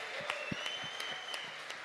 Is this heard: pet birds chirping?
no